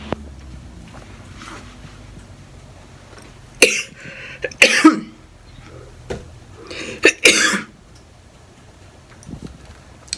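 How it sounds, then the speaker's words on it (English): Several harsh coughs come in uneven clusters against a quiet background, with pauses between each fit. "I'm still coughing."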